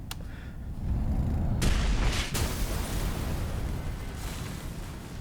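A bomb detonates in AI: The Somnium Files, a loud, dense blast that swells into a long, rumbling roar and then slowly fades, with no voices over it.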